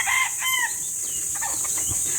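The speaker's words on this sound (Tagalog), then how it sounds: "May mga manok pa eh." Chickens cluck and a rooster gives a short crow-like call in the first half, followed by quieter scattered farmyard sounds.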